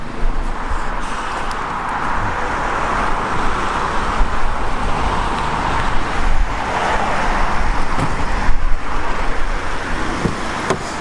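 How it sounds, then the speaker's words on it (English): New BMW M3 on the road, a steady in-cabin hum of engine and tire roar with wind noise, moderately loud and fairly constant with slight swells. "I'm going to jump into the car now and we're going to get on the road"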